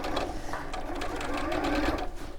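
A sewing machine runs a short burst, stitching a small quarter-inch seam on a tote bag, its quick even needle rhythm loud and close.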